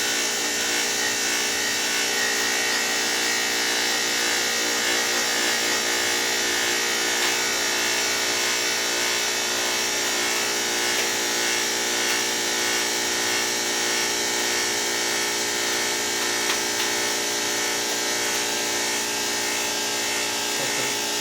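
A cotton candy machine runs with both switches on while heating up before it starts to floss, giving a steady, continuous motor whir and hum with a bright, even high-pitched drone throughout and no talking.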